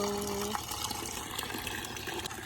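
Water gushes steadily into a solar water heater tank, a continuous close rushing flow that starts after a brief hum.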